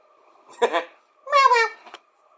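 A pet cat meows twice at close range, the first call short and the second longer and drawn out, with a brief quiet voice between them indoors.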